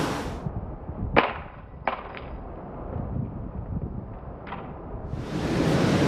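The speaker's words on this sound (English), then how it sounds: "Note 1 front-facing drop test. Let's go ahead and do this in 3, 2, 1." A sharp clack of a Samsung Galaxy Note 1 smartphone hitting hard ground face down, followed by a couple of smaller knocks, heard outdoors over steady wind noise.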